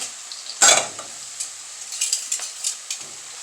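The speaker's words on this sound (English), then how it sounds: "dip it in there, and if it sizzles, it's ready" Food sizzles steadily in hot oil, with a loud burst of frying as something hits the pan, then lighter spattering and utensil stirring.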